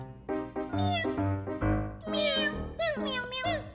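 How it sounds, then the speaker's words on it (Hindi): A very fat cat meows several times in a row, the drawn-out, rising and falling cries close and clear with short gaps between them. "मैंने आज तक इतनी मोटी बिल्ली कभी नहीं देखी"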